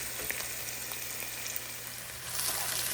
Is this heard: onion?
yes